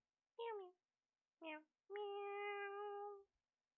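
A cat meow sound effect from a chat bot plays three times: two short meows and then a longer drawn-out one, clear and isolated with silence between them.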